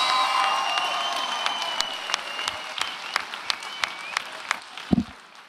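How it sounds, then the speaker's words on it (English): Audience at a Muay Thai title event applauding the fighters, steady clapping with sharp individual claps standing out and a few cheers, fading toward the end. "let's give both of these fighters a massive round of applause"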